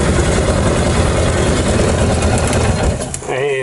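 Polaris Ranger utility vehicle with nearly 4,000 hours on it, engine running in a loud steady drone on a farm, with someone talking briefly near the end.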